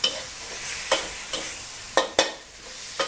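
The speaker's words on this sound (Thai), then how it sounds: "ทีนี้ผัดให้ปลาหมึกสุกแต่ใช้เวลาไม่นานนะ" Squid stir-fries in a wok for spicy drunken squid, a loud, continuous hiss broken by about six sharp spatula clacks at uneven intervals, with no voices.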